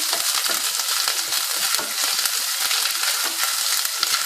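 Onions and ginger paste sizzle in a hot pan for pulao, a dense, steady crackling hiss with small stirring scrapes, close and loud with no voices.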